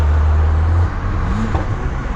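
A tuned Stage 2 2020 BMW M340i of about 600 horsepower accelerates hard, its engine and intake roaring loud and close. A steady low drone breaks off partway through and resumes with a rougher, shifting tone.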